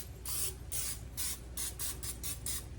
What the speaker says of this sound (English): I do want to spray my pan over here